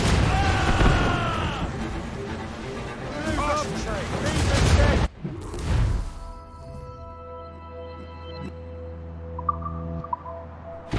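Ship cannons boom in Assassin's Creed Rogue during a naval battle, a loud heavy volley over voices and game music, then fading into low rumble and ambient drone.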